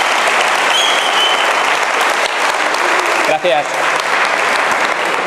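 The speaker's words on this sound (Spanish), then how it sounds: "Un fuerte aplauso." Audience applause at a talk on golden-ratio mathematics and sacred geometry fills the whole stretch, loud and dense, dipping briefly near the middle while someone speaks a short word of thanks over it.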